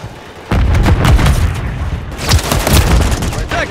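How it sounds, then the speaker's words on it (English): Rapid gunfire and booming blasts from a Call of Duty Modern Warfare 3 multiplayer objective match, loud and continuous with overlapping shots and explosions, while game voice callouts sound over the action. "We're taking fire."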